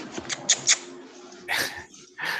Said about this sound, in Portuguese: Ah, é o cachorro.